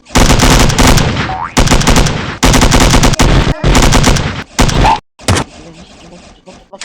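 Rapid bursts of game gunfire from a chocolate-shooting milk video game come in loud, dense volleys with short gaps, fading to quieter clicks near the end, with a voice mixed in.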